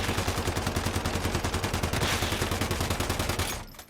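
A purple SCAR rifle in a video game fires continuously in rapid automatic bursts, a dense, loud, evenly spaced clatter of shots that runs for several seconds and then stops abruptly.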